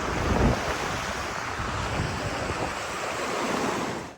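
Fast floodwater surges along steadily in a flooded area of the Majha region, a loud continuous rushing roar with wind buffeting the microphone and no voices.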